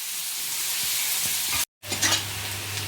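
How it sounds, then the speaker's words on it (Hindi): Onions sizzle in a pan as they fry toward golden for a bitter gourd curry, a loud, continuous crackle broken by soft stirring scrapes, then a short silent cut before the frying resumes with a low hum beneath. "तो पहले हल्का सा गोल्डन फ्राई कर लेते"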